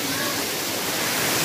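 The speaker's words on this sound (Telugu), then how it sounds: "మాపూర్ వాటర్ఫాల్ ఇదే" Steady broadband rush of water pouring at Vasthapur waterfall in Nirmal, a constant dense roar with no breaks, loud and close.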